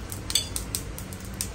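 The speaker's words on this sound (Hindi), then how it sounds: "चम्मच हिल रही है" A metal spoon clinks lightly against a pot while stirring, several small, sharp taps at an irregular pace over a soft background.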